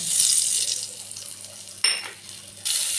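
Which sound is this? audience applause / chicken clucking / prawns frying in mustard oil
prawns frying in mustard oil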